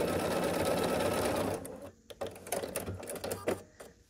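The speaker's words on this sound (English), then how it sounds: "And we're just going to sew this here all the way down." Sewing machine stitching a quilt block seam, a steady fast whir for about a second and a half that then breaks into short bursts of stitching, close and moderately loud.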